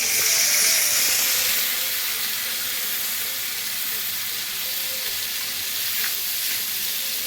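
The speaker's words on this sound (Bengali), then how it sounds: "বেশি ভাজা যাবে না আলতোভাবে ভেজে নিয়ে দিয়ে দেবো" A continuous sizzle and hiss of poppy seed paste, ground with green chillies, frying gently in a hot pan, steady throughout with faint clinks and stirring in the background.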